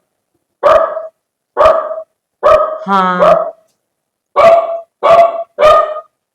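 A pet female dog barks sharply several times in loud, close bursts with short gaps, one bark stretching into a higher whining yelp, and a person briefly speaks once.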